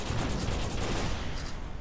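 Rockets launching in the vehicle-building game Terra Tech, a dense run of rapid rumbling blasts and explosions, loud and continuous, with no talking.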